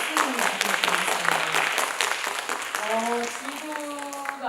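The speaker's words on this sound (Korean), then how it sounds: "여러분 박수를" An audience at an environmental talk show in Gyeongju breaks into broadband applause, a steady crowd clapping while a voice talks over it and tonal sounds rise near the end.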